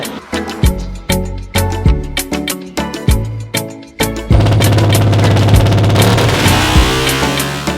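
A Yamaha Exciter 150 motorcycle with twin exhausts and an API ignition box runs on a dyno, blipping in a string of sharp short revs before holding one loud, sustained high-rpm pull that slowly tails off.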